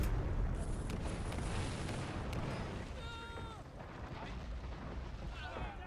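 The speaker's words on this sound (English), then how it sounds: "So they've got mortars." Mortar fire and explosions from the video game Men of War: Assault Squad 2 form a dense, continuous rumble of blasts and booms, with brief tonal whistles and effects breaking through midway.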